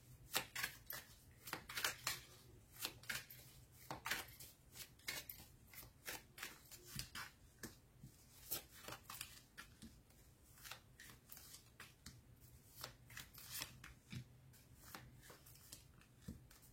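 Tarot cards are shuffled close by in a quiet room, a long run of crisp riffling flicks and soft slaps coming in irregular bursts.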